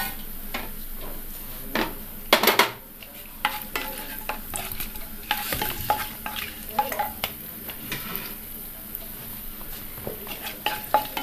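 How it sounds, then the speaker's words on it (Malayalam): Whole spices crackle and sizzle in hot ghee in a pot for egg biryani, with sharp pops, stirring scrapes and occasional clinks of a utensil against the metal, close up and fairly quiet. "നമ്മളതിൽ എടുത്ത് വെച്ചിരിക്കുന്ന ഓൾ സ്പൈസസ് ഇട്ട് കൊടുക്കാം."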